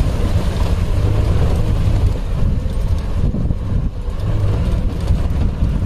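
The engine of a Maruti Gypsy on a night drive gives a loud, steady, low rumble from inside the vehicle, mixed with continuous road and wind noise, without distinct revving.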